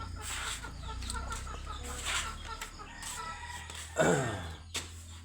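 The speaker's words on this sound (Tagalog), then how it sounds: "Mga manok o." Chickens cluck and a rooster calls in the morning, a steady scatter of nearby clucks with a louder crowing burst near the end over a low background hum.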